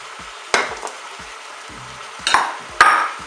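Turnips, leeks and potatoes tumble into a Cookeo multicooker pot for a homemade potée, with a few sharp clattering stirs and thumps over a steady background hiss of browning.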